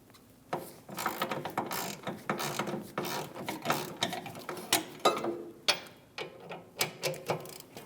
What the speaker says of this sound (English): Using an 18mm socket, we're going to remove the 2 caliper bolts.